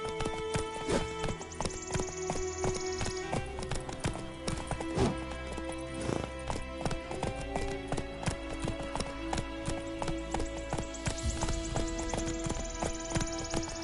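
Roach, a horse in The Witcher 3: Wild Hunt, gallops with steady rapid clip-clop hoofbeats throughout, a whinny rising partway, over a dense game soundscape with music and effects.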